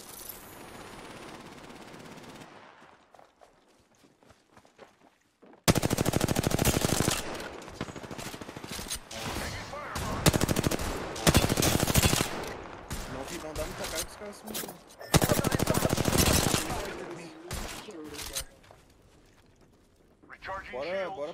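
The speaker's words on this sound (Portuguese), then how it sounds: "Parece que ele tá tomando tiro de outro, viu?" Loud bursts of rapid automatic gunfire from the battle royale video game Apex Legends, several separate volleys with short gaps and quieter stretches between, while players talk over the action.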